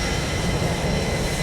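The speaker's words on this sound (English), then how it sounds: "as we have got some airplanes leaving here" Airplanes departing an airport in Microsoft Flight Simulator 2024, heard as a loud, steady broadband engine roar with no breaks, close and dense throughout.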